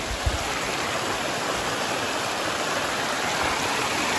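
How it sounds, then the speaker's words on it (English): Small forest creek near Porcupine Lake on Mount Shasta, a continuous broadband rush of flowing water, close and steady with no voices. "We're gonna cross a couple of little creeks."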